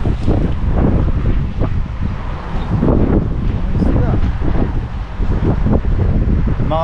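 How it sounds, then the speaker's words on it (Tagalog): Strong wind blows steadily at the sea on a clear day after a typhoon, a loud continuous rushing that buffets the microphone throughout, with a voice speaking over it. "medyo mahangin pa"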